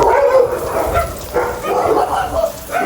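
Dogs bark and yip in short bursts nearby, a few overlapping calls with faint voices in the background.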